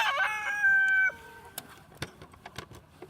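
Young chickens in a chicken tractor on pasture on a spring day, giving a drawn-out crowing call that falls off, followed by scattered soft clucks and light rustling, fairly close and faint.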